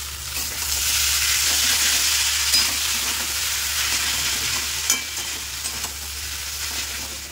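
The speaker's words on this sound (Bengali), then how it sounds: "সব রকম সবজি দিয়ে ম্যাগি ফ্রাই করছি।" Maggi noodles are stir-fried with mixed vegetables in a pan, making a loud, steady sizzle broken by occasional scraping and tossing of the spatula, close up with no talking.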